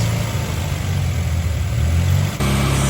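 1981 Dodge Challenger engine with a Weber carburetor running rough at idle, a loud uneven chugging rumble that stumbles as if dropping a cylinder, close up and alone before the tone shifts at the end.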